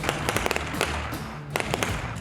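Gunfire crackles in quick bursts of sharp, loud reports during urban combat training of Ukrainian soldiers in Britain, with a short lull before another rapid volley.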